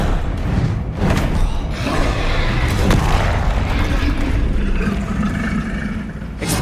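Confringo spell explosion in Hogwarts Legacy, heavy booming blasts with rumbling low end and crackling bursts, sustained loud combat noise throughout.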